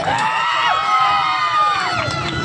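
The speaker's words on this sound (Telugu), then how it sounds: "గట్టిగా ఒకసారి చప్పట్లు కొట్టండి" A crowd at a shop opening event cheers and shouts, with mixed voices rising and falling and children's high shouts cutting through a steady, lively din.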